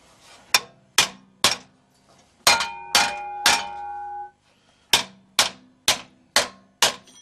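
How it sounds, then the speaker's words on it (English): A hammer strikes metal again and again while a 37mm anti-tank gun model is built: sharp, loud ringing clangs in a steady rhythm, with one stretch of struck blows that ring on with a sustained metallic tone. "Gonna need a bigger hammer."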